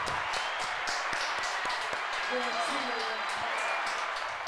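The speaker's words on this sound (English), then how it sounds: "Clap it up." Audience members at a live mic show clap in a brisk, dense patter that runs throughout, mixed with crowd noise and voices talking over it.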